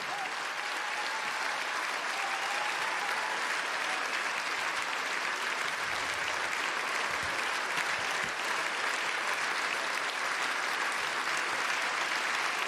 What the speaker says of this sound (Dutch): Geef ze dan daarvan applaus voor een fantastisch optreden wat ze hier gedaan hebben.